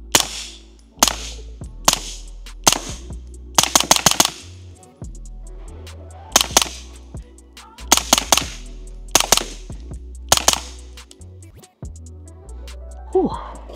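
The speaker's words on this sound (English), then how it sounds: "With subsonic ammo, it is almost that movie quiet shooting that everybody craves to get." A suppressed B&T GHM9 Gen 2 9mm carbine fires subsonic ammo in sharp, close, muffled cracks, some single and some in quick strings of several, with the action clacking and a voice heard in between.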